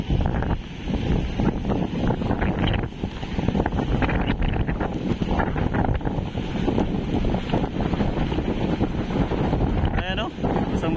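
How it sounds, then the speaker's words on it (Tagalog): Strong waves and gusting wind batter a harbor for passenger boats at Dinahican, Infanta, Quezon during Super Typhoon Pepito, a loud continuous roar with wind buffeting the microphone and a voice speaking over it. "Grabe po talaga yung alon"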